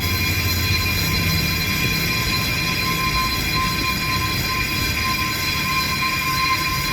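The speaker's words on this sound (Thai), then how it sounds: "อันนี้เจียประชิดกับตัวรถได้เลย" An on-car brake disc lathe grinding a car's brake disc produces a loud, continuous metallic whine and grinding hiss, steady and close for the whole stretch with no talk.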